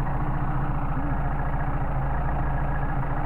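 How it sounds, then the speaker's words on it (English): A Mercedes 190SL engine fitted with Solex carburetors idles steadily up close, a loud continuous low rumble with even pulsing and no voices. "Get our best idle speed with the idle mixture screws, and also for fun we're going to see how low we can get the engine to idle."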